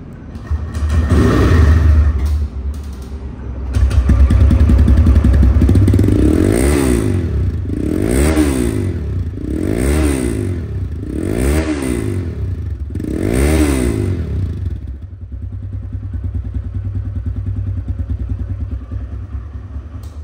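A second-hand TVS Raider motorcycle in showroom condition idles and is revved five times in a steady rhythm, each rise and fall clearly audible up close, before settling back to a smooth idle.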